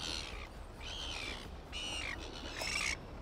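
Gull-like squawking calls come in several bursts over a rhythmic low rumble, recorded outdoors on the water at a Sydney squid fishing spot.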